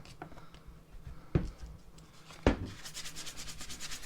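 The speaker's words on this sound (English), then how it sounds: "just slowly sand it back and forth" Slow back-and-forth hand sanding of a cracked plastic disc golf disc, soft rhythmic rubbing close up and quiet, broken by a couple of sharp knocks.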